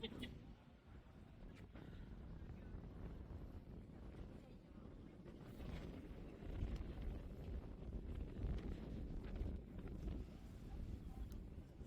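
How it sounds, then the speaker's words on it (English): Gusty wind buffets the microphone outdoors in Chetumal, Mexico, with low rumbling bursts that swell louder partway through, while faint speech can be heard. "it's super windy too"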